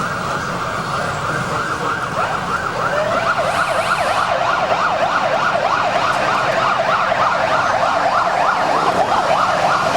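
Jacksonville Police motorcycle sirens wail loud and continuous at the Gator Bowl street parade in Jacksonville, several overlapping in rapid yelping sweeps over engine rumble.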